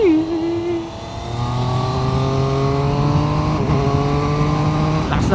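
A 2026 Triumph Trident 800 three-cylinder motorcycle accelerating, its engine note rising steadily through the revs with a smooth, even tone, heard up close from the rider's position and without talk.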